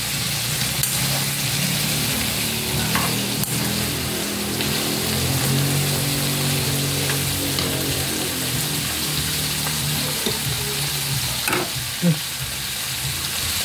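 Chopped sayote vegetables stir-frying in a pan, a continuous close sizzle with occasional clinks and scrapes of stirring throughout, no one speaking over it.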